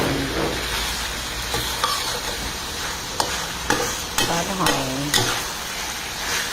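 Food being stir-fried in a pan, a steady hot sizzle broken by repeated scraping and clacking of a utensil against the pan, close and fairly loud, with no talk.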